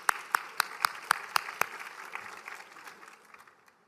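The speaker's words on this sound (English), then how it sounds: "Please give him a round of applause." Event audience applauds at a speech honoring a family member: several sharp, evenly spaced claps stand out up close over a broader patter that gradually fades away.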